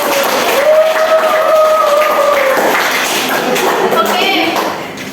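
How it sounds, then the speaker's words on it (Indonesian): Classroom applause from students during a teaching session, a steady broadband wash of clapping mixed with crowd noise and a sustained voice-like tone, lasting about five seconds before tapering off. "Terima kasih untuk Maksi dan Mas Vito, kita beri apresiasi dengan tepuk tangan terlebih dahulu."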